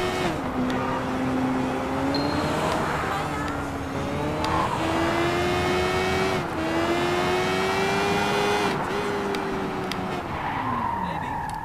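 A motorcycle engine in the video game Sleeping Dogs hums in a continuous mid-level drone, its pitch rising and dipping as the bike revs, with faint voices underneath.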